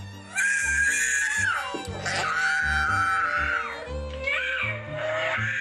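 A small boy shrieks in loud, piercing bursts, high-pitched and close, with short gulping pauses between the screams and no talk over them.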